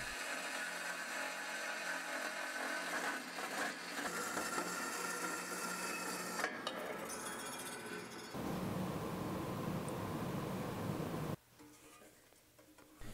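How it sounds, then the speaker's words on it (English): A vertical bandsaw cuts through taped metal turbo manifold tubes, grinding loudly and steadily for several seconds with shifts in tone as the blade pushes through, then cutting off abruptly. "these manifolds sit quite square on my vertical bandsaw, so I'm just going to tape up the tubes so I don't scratch them up and I'm going to push it right through"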